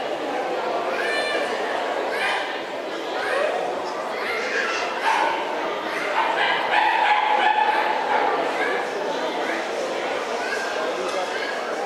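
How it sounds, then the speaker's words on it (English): A French Bulldog puppy at a dog show judging ring yips and barks in short, repeated bursts, mostly under continuous talk and crowd murmur. "French Bulldog puppy going in for a cuddle."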